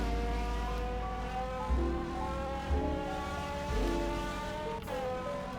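Budget car in a Roblox game accelerating toward top speed, a buzzing engine note climbing through several upshifts with brief dips between gears, steady and close, without talk.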